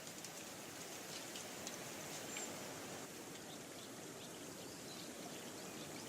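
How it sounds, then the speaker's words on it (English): A small natural spring bubbles out of the ground at the edge of a rice field in a rural Japanese village, making a faint, steady trickling and gurgling with no voices. "At the edge of this rice field, a small natural spring bubbles out from the ground."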